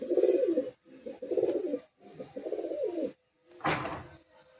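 Madrasi high flying pigeons in a loft in Bagnan, Chandrapur, Kolkata, cooing close by in about four throaty, rolling bursts separated by short pauses.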